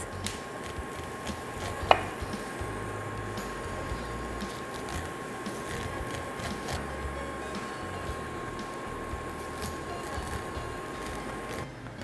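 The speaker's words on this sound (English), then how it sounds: "you're just gonna cut all the kernels off of each of the cobs" A sharp knife shears corn kernels off the cobs for a creamy Mexican corn salad. A close, steady scraping crunch runs throughout, with one sharp knock near the start and no talking.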